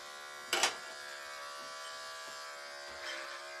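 Electric hair clippers cutting short men's hair in a salon, a close, steady high buzz with a brief louder burst early on as the blade bites.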